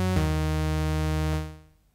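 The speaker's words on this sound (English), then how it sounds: "This is a fresh drift synthesizer here and it does sound like this." Ableton Drift synthesizer on its default patch holds a single plain, buzzy sustained note with rich harmonics, briefly retriggered, then fades out to silence.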